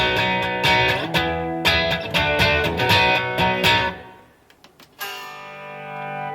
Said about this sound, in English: this slowly swell is nice. This utilises this delay swell effect.